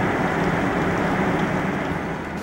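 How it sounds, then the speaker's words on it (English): Heavy rain pounds on an RV in a rain test bay, a dense, unbroken roar of water heard from inside, loud and steady throughout, with no voices. "If you've ever been in any RV during a heavy rainstorm, then you know this sound."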